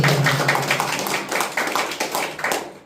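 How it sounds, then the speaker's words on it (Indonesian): Applause from an audience at the closing ceremony of an accreditation visit, a dense run of many hands clapping close by that keeps steady for about three seconds before easing slightly. "Boleh tepuk tangannya dulu ya."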